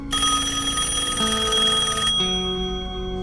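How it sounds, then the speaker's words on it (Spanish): In an anime episode of Hunter x Hunter, a telephone rings loudly and steadily with a bright, continuous bell-like trill that shifts slightly in tone partway through. "por favor, contesta el teléfono"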